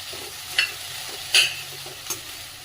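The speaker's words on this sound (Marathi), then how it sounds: "वाटाणा, सर्व भाज्या असं छान असं परतून घ्यायचे आपल्याला।" Peas, carrots and capsicum sautéing in a pan for a mixed vegetable dish: a low, soft sizzle with a few sharp scrapes of a spoon stirring against the pan.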